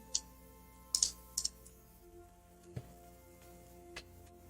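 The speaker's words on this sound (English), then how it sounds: "And you're hearing mouse clicks again" Sharp, quiet computer mouse clicks come in a few small clusters with gaps between them, close to the microphone in a quiet room.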